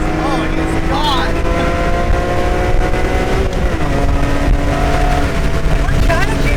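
A McLaren sports car speeds past on a highway with a loud, sustained engine drone and faint exhaust pops, heard from a nearby vehicle while people talk excitedly over it.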